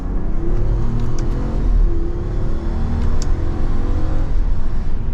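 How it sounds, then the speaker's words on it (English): A 2023 Jeep Wagoneer L Carbide SUV accelerates hard in sport mode, heard from inside as a loud, steady engine drone and rising rumble with road noise, without any talking. "All right, so we are setting off now in this Wagoneer. Let's go into sport mode."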